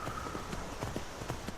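Horse hooves clip-clopping in the video game Skyrim, a steady walking rhythm of distinct, evenly spaced hoof strikes over a constant low background, fairly close and heard alone without talk.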